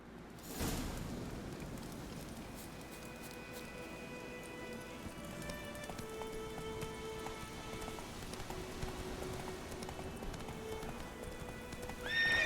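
Horse galloping in The Witcher 3 video game, steady hoofbeats running under a continuous outdoor ambience with faint game music tones, moderately quiet throughout.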